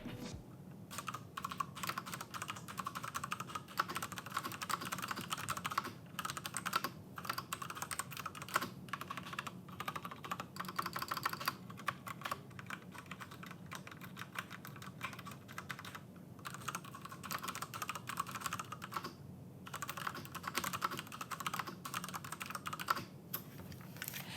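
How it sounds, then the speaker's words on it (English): Someone types continuously on a Ducky Shine 7 mechanical keyboard with Cherry MX Red switches resting on a desk, a quiet, close flurry of rapid key clacks with brief pauses. "That was a lovely satisfying sound from those Cherry MX Red switches."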